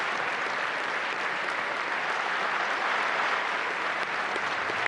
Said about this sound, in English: they're marking his passing with this minute's applause